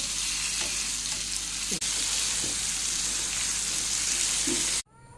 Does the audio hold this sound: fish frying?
yes